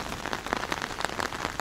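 Steady rain pattering on a hard surface by the sea in Antalya, with scattered close drops ticking over a soft continuous hiss.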